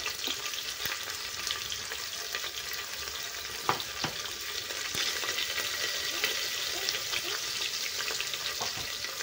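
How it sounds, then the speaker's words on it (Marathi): Long-sliced onions sauté in a pan for a green pulao, giving a continuous soft sizzle with occasional scraping stirs and no talking. "कांदा मी कांदा छान आपल्याला गुलाबी होईपर्यंत चांगला परतून घ्यायचा आहे"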